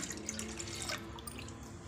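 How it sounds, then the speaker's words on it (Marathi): Water, 200 ml, runs steadily into a pot for a couple of seconds, a soft continuous splashing pour with a faint bubbling texture. "आता यात 200 ml पाणी टाकते"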